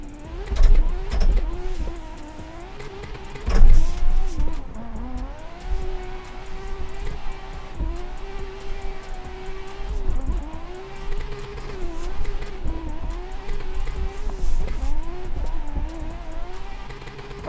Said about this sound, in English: might be one of the most realistic sounding and beautiful sounding cars I've ever heard on Assetto Corsa